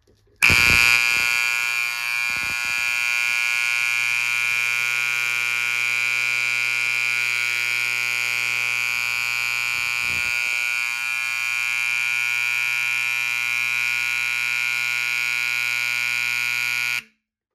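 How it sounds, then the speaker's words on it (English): A loud scoreboard horn wired up as a fire alarm blares one continuous harsh buzzing tone for about sixteen seconds, close and piercing, starting and stopping abruptly with a few faint clicks near the start. "this is one of the horns they typically use for scoreboards"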